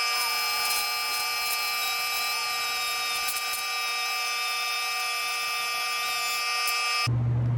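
A power sander works on chassis plates for a TMR "The Paradigm" IFS build, giving a steady, loud, high whining drone with no pauses that cuts off abruptly near the end.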